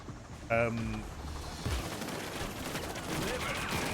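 Gunfire from the video game Payday 2 crackles in bursts of shots mixed with in-game effects, moderately loud under a busy game soundscape.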